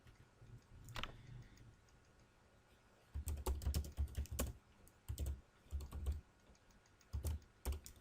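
Quiet clicking of a computer keyboard as C++ code is typed, keystrokes arriving in uneven bursts separated by short pauses, close and fairly soft with no speech.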